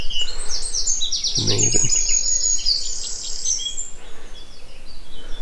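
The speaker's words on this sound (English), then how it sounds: "lots of birds are singing" Several birds sing beside a quiet country road, with bright, high chirps and trills close by over soft background hiss, while a person briefly speaks partway through.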